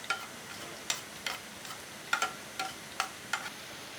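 Garlic and ginger are stirred into onions frying in a pan, giving faint soft sizzling under a series of about nine light scraping clicks and taps from the stirring, spaced irregularly.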